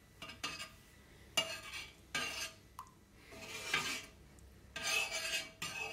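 A utensil scraping and stirring through heavy sugar syrup mixed with cider vinegar in a pot, several rasping strokes with short pauses between them, close and fairly quiet, with no voices.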